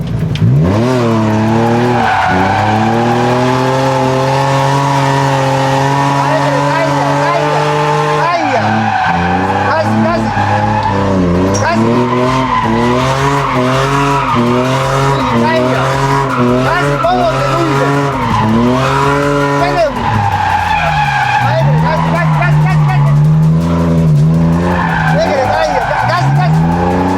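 A car drifts around a corner during a drift lesson, its tires letting out long, loud, wavering squeals in repeated swells over a constant engine drone.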